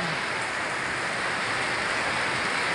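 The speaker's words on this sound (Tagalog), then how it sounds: "Grabe ang lakas. Sobra ang lakas ng ulan." Very heavy rain pouring down in a steady, dense roar that fills the whole stretch without pause, fairly loud and close, with no voices.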